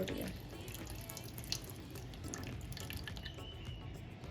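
Water from a broken coconut trickles and splashes steadily, a soft continuous gush with small drips, quiet and close.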